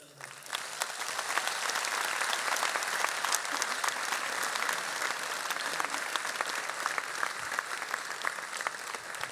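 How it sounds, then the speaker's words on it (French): Sustained applause from a large gathering of scouts, a dense, steady clatter of clapping that starts quickly and holds at full strength without letup, honouring a young man and his family. "Et sachons aussi applaudir Mehdi et toute sa famille."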